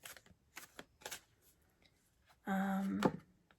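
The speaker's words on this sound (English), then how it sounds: "I shuffle until I feel that stopping point, and I shuffle in different ways." Tarot cards being shuffled in different ways: several short, crisp riffles and taps, then a louder, sustained burst of rapid card flutter near the close.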